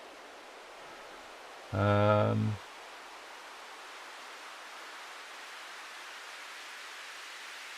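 Filtered white noise from a modular synthesizer forms a steady, faint hiss throughout, briefly interrupted by a single short spoken word near the start.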